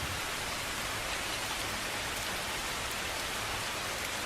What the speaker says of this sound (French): Puis la pluie elle rafraîchit pas,